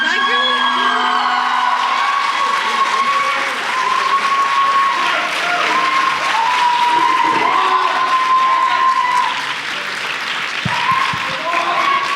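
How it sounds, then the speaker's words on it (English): An audience at a medical conference claps, screams and cheers loudly after a presentation, a dense sustained roar of applause with whoops and shrill shouts throughout. "there's a lot of screaming coming up from there behind"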